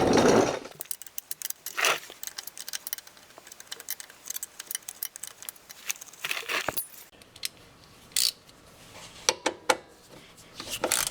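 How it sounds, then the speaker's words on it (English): A 12mm wrench working a rear skid plate bolt loose on a Kawasaki Brute Force ATV, sparse metallic clinks and ticks with scattered jangling taps, close by, with quiet gaps between them. "for this rear skid plate bolt, I'm going to use a 12mm wrench"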